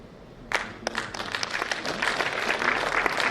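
Audience at a university foundation day ceremony bursts into applause, a few sharp claps at first and then a steady, swelling patter of many hands in an indoor hall.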